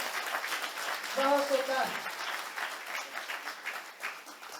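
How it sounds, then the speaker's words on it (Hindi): Applause rolls steadily beneath an announcer at an Azadi Ka Amrit Mahotsav school event at A S Patna Central School, the clapping sustained in the background while someone speaks over it. "जोरदार तालियां, बहुत सुंदर दृश्य।"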